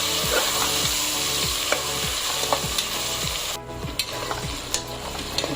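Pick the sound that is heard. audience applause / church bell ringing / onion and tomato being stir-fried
onion and tomato being stir-fried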